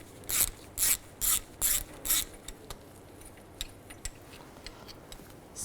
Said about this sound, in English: Use an 8mm socket to take this screw out.